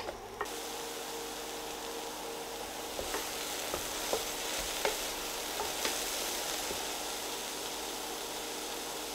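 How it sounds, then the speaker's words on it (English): Aubergines browning in oil in a pan give a steady, soft sizzle throughout, with a few faint clicks of stirring, no voices. "So a bit of oil in the pan, and we're going to brown off the aubergines."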